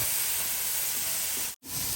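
Food sizzles in a hot pan with a continuous bright hiss that holds steady, broken by one brief near-silent dropout before resuming.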